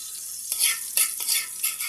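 Garlic dropped into hot oil for a vegetable soup, giving a bright sizzle that flares up in three quick bursts as it is stirred, close and fairly loud, with no voices.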